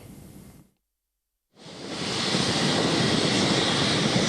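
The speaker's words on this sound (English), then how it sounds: "As the Royal Australian Air Force Hercules C-130 taxied down the Nadzab Airport" A Royal Australian Air Force Hercules C-130 taxies at Nadzab Airport, its engines a loud, steady broadband roar that swells in after a brief silent gap and holds for several seconds.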